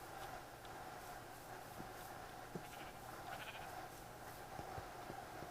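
Sheep bleat in a Towncraft video game, repeated soft calls over a steady hum of in-game ambience, fairly quiet throughout.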